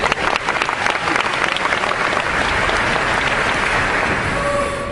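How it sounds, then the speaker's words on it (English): A large debate audience applauds loudly and steadily for the full stretch, a dense wash of clapping that eases slightly toward the end, with no voices on top. "by all means restrain your applause, as I was rather alarmed to see you just did"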